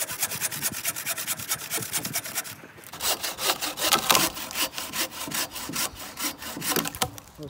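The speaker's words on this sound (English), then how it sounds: "so I've got a saw here." A Bahco Force Ergo 24-inch bow saw cuts through wood in steady, rapid back-and-forth strokes, close and loud, with a brief pause before sawing resumes.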